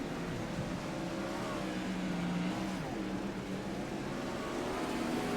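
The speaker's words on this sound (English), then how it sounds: "Noah Bowman in the 24 car, a lap down, and he's absolutely charging through the field" Race cars racing on a short track during a winter series event at Lanier: a dense, continuous engine roar from several cars at once, loud and steady throughout without a break.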